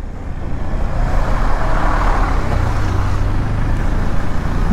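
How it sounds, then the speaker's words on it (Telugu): Road traffic rumbles around a motorcycle riding from Chittoor toward the Yelagiri hills, with buses on a narrow street; a steady, loud, close engine and road roar fills the whole stretch with no talk over it. "చాలా ట్రాఫిక్ అయిపోయింది అబ్బా ఈడ."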